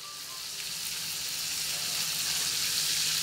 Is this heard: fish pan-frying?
yes